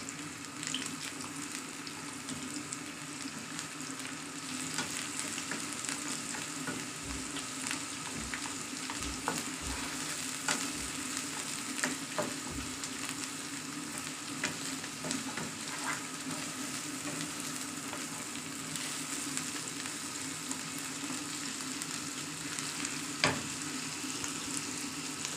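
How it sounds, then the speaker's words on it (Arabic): Minced meat sautés with zucchini in oil in a pan, a soft continuous sizzle with scattered utensil scrapes and taps, fairly quiet and close, no speech. "اللحمه انا كده شوحتها"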